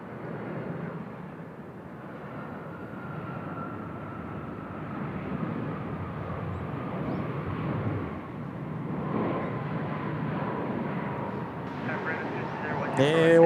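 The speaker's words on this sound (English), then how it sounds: "Just a very idle reverse thrust there." An ANA freighter Boeing 767 lands at Seoul Incheon airport with only idle reverse thrust, giving a steady, moderately distant jet roar with a faint whine held throughout and some wind buffeting on the microphone.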